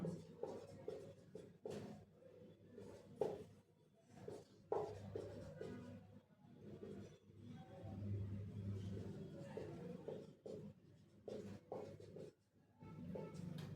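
A number is written by hand during a maths class, heard as faint intermittent scratching and tapping strokes with pauses, set against a low background rumble.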